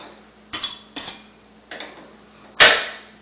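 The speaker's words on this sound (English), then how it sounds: "you can chop them up like so" Four sharp knife chops through chocolate turtle candy pieces on a cutting board come at uneven intervals, each one a crisp close knock, and the last is the loudest.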